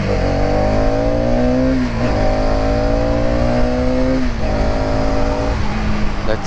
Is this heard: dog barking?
no